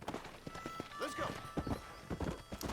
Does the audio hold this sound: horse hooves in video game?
yes